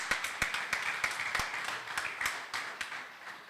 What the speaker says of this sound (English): So give us a big round of applause